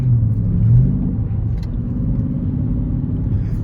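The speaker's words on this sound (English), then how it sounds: "Let's go ahead and open up the active exhaust." A 2019 Dodge Charger with its active exhaust opened idles with a deep, steady low rumble and a slight swell in engine note early on, loud and close throughout, with no talk.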